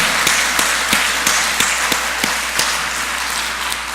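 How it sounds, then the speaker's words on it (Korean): A church congregation at an Easter Sunday morning service applauds to celebrate the resurrection: a dense, steady wash of many hands clapping, with a few sharper individual claps standing out at a regular pace. "영광의 박수 다시 한번 돌리겠습니다."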